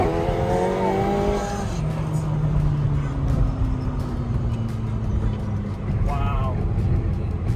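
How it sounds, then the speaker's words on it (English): A McLaren's turbocharged engine pulls hard under acceleration. A rising engine tone climbs, then gives way to a sustained roar of road and wind, heard from inside the car with people talking over it. "When the turbo kicks in, you feel it kick you."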